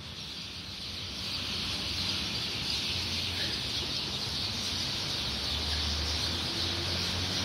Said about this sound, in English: You hear how much those things are squawking?